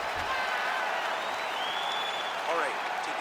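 Crowd applause and cheering in the UFC 5 video game after a grappling exchange in a Makhachev vs Pereira fight, a steady broad wash of clapping and crowd noise that holds at an even level throughout.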